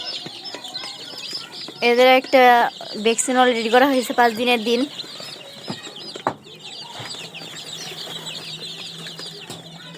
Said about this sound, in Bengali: আমার এই 300 মুরগির বাচ্চাগুলো বোর্ডিং করা হয়েছে